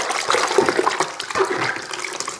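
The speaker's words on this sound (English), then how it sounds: "a bucket of lukewarm water, and I've not filled it up too much" Lukewarm soapy water with a little washing-up liquid sloshing and splashing in a bucket, a close, continuous watery churn with no voices.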